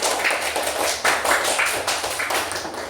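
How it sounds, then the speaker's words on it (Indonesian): A school class applauds a student group after its presentation, a short, uneven patter of many hands clapping together in a room. "beri tepuk tangan untuk kelompok 3"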